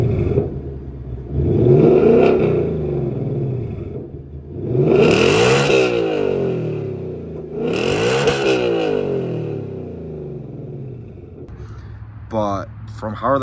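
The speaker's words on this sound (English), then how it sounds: "I'm gonna put some exhaust clips right now." A 2024 Ford Mustang GT with S550-style exhaust and a Steeda H-pipe revs repeatedly: loud, deep engine sweeps rising and falling in three big surges, with a brief higher-pitched sound near the end.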